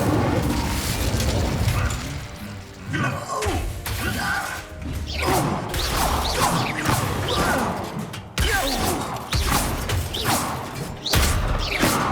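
An Incendio fire spell in Hogwarts Legacy: repeated whooshing bursts and crackling blasts over a busy game soundscape, with thuds and crashes and a brief voice in the mix.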